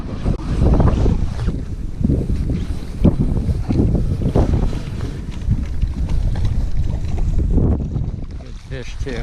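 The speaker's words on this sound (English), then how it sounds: "it's rough out here and windy" Strong wind roaring over open water on a rough winter day of trout fishing from a boat, continuous loud buffeting gusts with heavy wind noise on the microphone.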